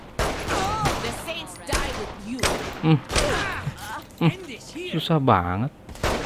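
Gunfire in Saints Row The Third Remastered during an enemy base takeover, several sharp shots scattered among constant talking, loud and close.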